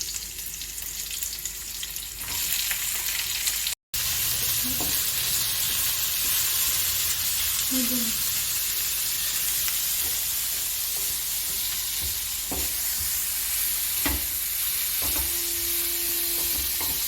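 Onions fry in hot oil for a chicken curry, making a steady, loud, close sizzle that runs the whole time, with a few faint clicks and one brief dropout early on.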